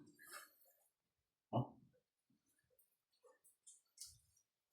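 Several short, faint canine sounds: a sharp yip, then soft scattered whimpers and snuffles amid quiet pauses, with no talking.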